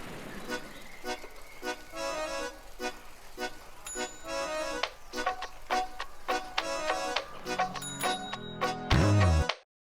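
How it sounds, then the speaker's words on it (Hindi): Repeated bright bicycle bell rings in quick bursts over steady street background, with a low engine rumble rising near the end. "साइकिल की जो घंटी वंटी है उसकी आवाज़ भी है"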